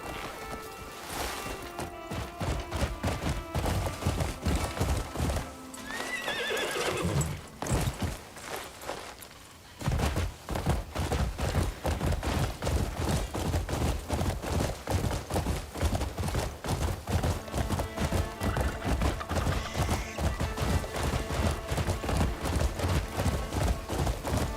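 Horse hooves clip-clop at a steady gallop in the video game Crimson Desert, close and continuous, breaking off briefly midway before resuming, with a faint whinny in the mix.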